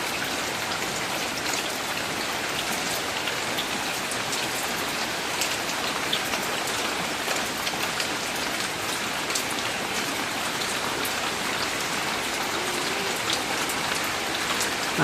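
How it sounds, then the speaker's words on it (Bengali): Steady light rain patters continuously on a rural Bangladeshi homestead, a close, even hiss of drops lasting throughout with no voices. "টিপ টিপ করে বৃষ্টি পড়তেইছে আর"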